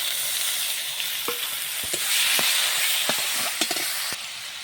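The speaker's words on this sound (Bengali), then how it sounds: "সুন্দরভাবে মশলা কষানো হয়ে গেছে।" Ground spice paste with salt and turmeric frying in a pan, a steady broadband sizzle with scattered clicks of stirring throughout, close and fairly loud, no voices.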